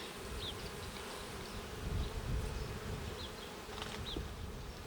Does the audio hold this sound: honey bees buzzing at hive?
yes